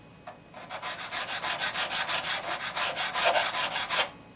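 Sanding block rubbed across the frets of a Squier Stratocaster guitar during a setup, a close, steady series of about fourteen rhythmic abrasive strokes with no talk.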